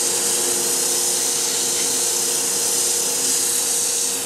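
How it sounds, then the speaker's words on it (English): A power sander works steadily across wood, stepping through the grits from 80 grit upward. It makes a continuous close, loud whirring hum with a rough abrasive hiss and no pauses. "Lightly sand it. I'm not going to skip any grits."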